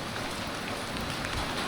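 Rainy-season downpour in Angeles City, a steady wash of rain hitting surfaces nearby, constant and unbroken with no voices.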